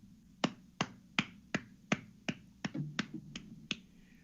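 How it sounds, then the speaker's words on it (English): A hollow-sounding hand clap, struck about ten times at a steady, quick pace, each one a sharp, close, dry crack with a brief tail, with no voices in between. "There's a hollow clap."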